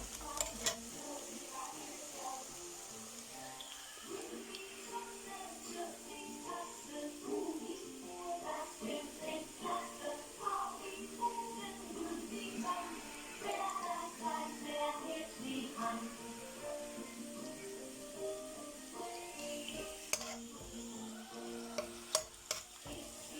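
Chopped ginger frying in hot oil in a pan while being stirred, a steady close sizzle with scraping and clinking of the spoon against the pan throughout.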